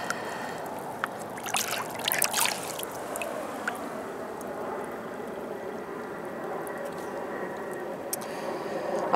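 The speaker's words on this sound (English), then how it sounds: "Give it a rinse." Water swishing and splashing softly as a coin found while mudlarking is rinsed, a steady low wash with a few brighter splashes early on, fairly faint and close.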